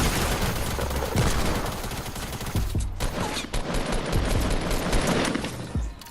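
Rapid gunfire in the video game Fortnite, including a pump shotgun, a dense loud burst of shots with a brief gap near the middle, no talk.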